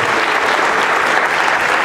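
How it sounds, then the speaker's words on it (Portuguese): A crowd applauds a folk dance group, Rancho Folclórico de Fortios, in a short burst of loud, dense, continuous clapping that fills the space evenly. "Uma salva de palmas para eles"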